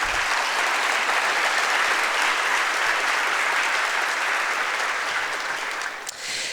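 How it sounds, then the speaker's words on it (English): Steady applause from a large audience at the opening plenary of a research data conference, dense and even throughout before beginning to thin at the end. "I'd like to ask you to give a round of applause to them"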